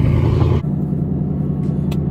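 A 2019 Ford Mustang 5.0 V8 with its resonator cut off idles in cold weather, giving a loud, close, deep, steady rumble; a brighter hiss drops away early and the throbbing low drone carries on alone.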